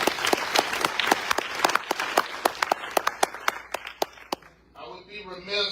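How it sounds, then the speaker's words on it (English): A crowd at an outdoor protest rally in Palm Springs, California applauds and cheers, dense clapping that thins into scattered individual claps before voices take over at the end. "The folks out here in the crowd, give them a big hand, please."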